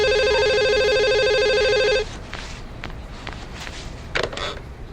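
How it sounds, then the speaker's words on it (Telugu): A telephone rings loudly for about two seconds with a steady electronic trill, then stops, leaving quiet room noise and a few soft clicks. "ఆ ఫోన్ తీసుకుని ముకుందన్నకు ఫోన్ చేయండి."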